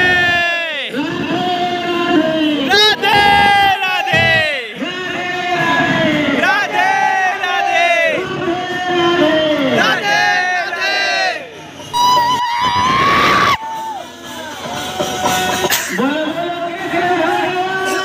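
Large crowd at a Janmashtami pot-breaking (matki phod) event, dense loud shouting, cheering and chanting in surging waves with voices calling out close by.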